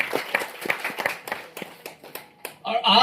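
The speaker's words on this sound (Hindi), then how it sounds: "एक बार अपने लिए जोरदार ताली बजाइए।" An audience at a company event claps in scattered, irregular hand claps that grow denser into louder applause at the end, with a voice speaking over them.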